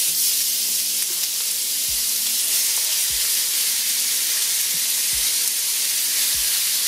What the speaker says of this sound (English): We're going to add a couple of tablespoons of oil to our pan. And we're now going to add our pork mince.